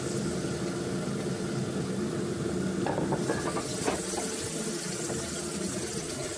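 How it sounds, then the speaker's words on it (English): Bacon frying in a pan for Hunan-style wild leeks, with a continuous close sizzle and a few soft stirring clatters partway through. "you want to make sure that all the bacon gets well fried a little bit"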